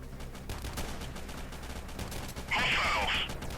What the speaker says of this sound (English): Oh, they are firing.